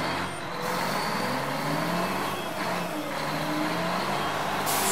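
A garbage truck idles and rumbles nearby with a steady engine drone and a hiss of air brakes, moderately loud and continuous, with no talking.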